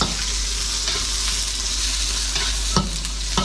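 Pad kaprao with crispy pork stir-fried in a wok at a street food stall, a steady loud sizzle with continuous tossing and a sharp clank of the utensil near the end, no talk.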